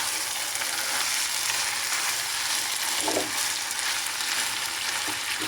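Burong isda (fermented rice and fish) stirred into onion, garlic and ginger in a pan, frying with a steady, close bright sizzle throughout and a faint scrape of the stirring utensil partway through.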